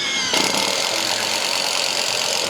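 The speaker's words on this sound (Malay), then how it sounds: "Ini impact driver maksudnya kalau abang nak guna untuk direct dekat kayu-kayu keras, direct dekat simen yang ini bang." A Dagmara D18 brushless impact driver bores into cement, starting abruptly after a brief pause and holding a steady, loud, grinding motor whine for the rest of the stretch.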